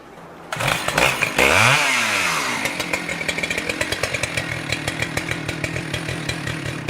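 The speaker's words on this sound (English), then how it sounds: "the logger returns to the chainsaw to perform the felling cut from the opposite" A chainsaw makes the felling cut on a tree at a wooden shipyard, starting abruptly, revving high, then settling into a steady loud buzz with rhythmic chatter as the chain bites through the wood.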